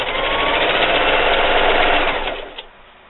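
A sewing machine stitches a quilt-as-you-go patriotic table runner along a mitered corner fold, running in a steady, close, loud whir for about two and a half seconds before slowing and stopping.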